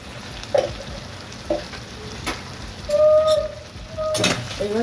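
Taro greens being stirred and fried in a pan, a soft constant sizzle under intermittent scraping and clinks of the spatula, close up with no talk.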